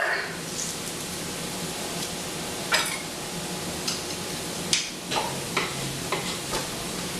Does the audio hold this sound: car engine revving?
no